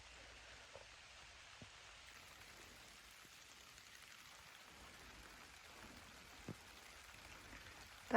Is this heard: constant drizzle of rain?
yes